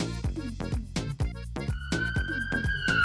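A cartoon ambulance siren wails over a bouncy animated-series music track in a children's cartoon about little cars, a steady tone gliding slightly downward against rhythmic plucked notes.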